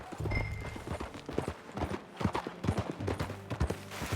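Horse hooves clip-clopping at a steady walking rhythm in Red Dead Redemption 2, close and clear, with low rumbling game ambience underneath.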